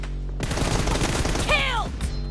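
Burst of rapid gunfire in a mobile shooter game, a dense, loud volley lasting under two seconds, with a brief rising electronic tone over it.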